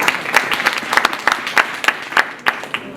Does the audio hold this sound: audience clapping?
yes